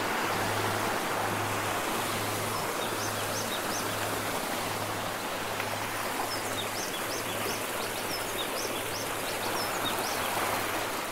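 Rainwater runs down a cliff wall as a steady, rushing hiss that stays even throughout, with faint bird chirps and a low pulsing hum underneath.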